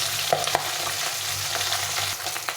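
A steady, close sizzle of fish frying in oil on low heat, with occasional soft scrapes and pops as the fish is turned in the pan.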